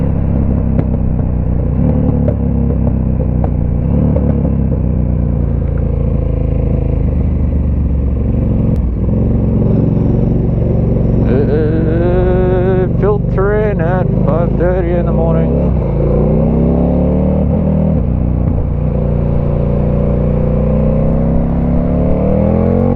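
A KTM 1290 Super Duke R motorcycle rides through early-morning Sydney traffic, its engine droning steadily throughout with a rising rev in the middle, while a rider talks over it.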